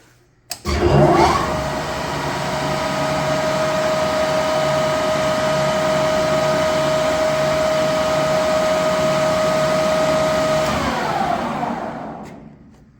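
A Standard Modern 1640 16-inch by 40-inch tool room lathe spins up at 1280 RPM with a sharp start, then holds a loud, steady whine and hum for about ten seconds before winding down, with no talk.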